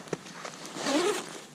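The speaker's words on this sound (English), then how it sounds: "We'll zip up" A winter paramotor flying jacket is zipped up in one rising zip stroke, close and fairly soft, preceded by light rustling of fabric.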